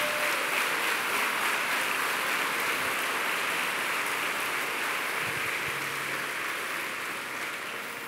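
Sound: applause

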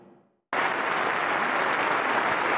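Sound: applause for Pope Francis at the European Parliament

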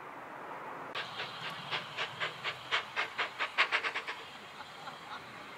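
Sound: double-headed train passing at the gate

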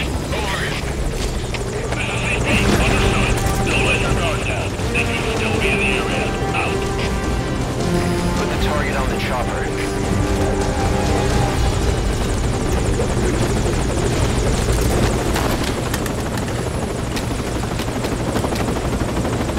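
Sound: helicopter in video game Metal Gear Solid V Ground Zeros

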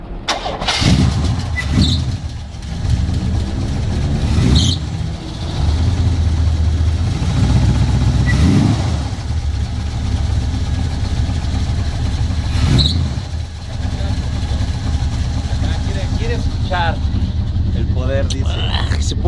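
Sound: Chevrolet 1977 pickup engine running

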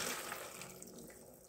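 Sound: water poured into cooking pot

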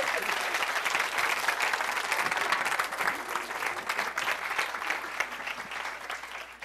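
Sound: audience applause at a science show

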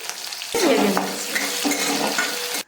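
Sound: frying beans with salt for upma

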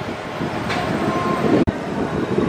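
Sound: KA Brawijaya passenger train running

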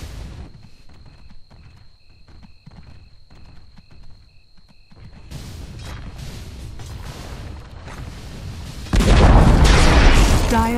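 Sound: Dota 2 tower being destroyed, from a video game

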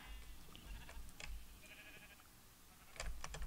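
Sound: sheep bleating while on fire in Minecraft video game

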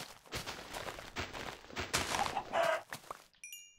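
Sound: chicken clucking from a video game

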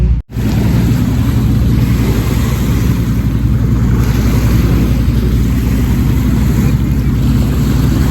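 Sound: sea waves at Lake Maggiore shore, Stresa, Italy

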